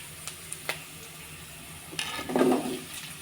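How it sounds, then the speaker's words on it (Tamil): Sliced onion added to a pan of pirandai (adamant creeper) being sautéed, soft clicks and scrapes of stirring then a brief burst of sizzling, quiet and close. "நம்ம அடுத்து வெங்காயம் போட்டுக்கலாம்."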